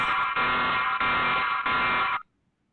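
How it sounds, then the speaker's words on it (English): A home security alarm blares suddenly in a harsh, continuous electronic buzz, loud and close, pulsing in three brief dips before cutting off abruptly. "The video starts with the alarm suddenly going off"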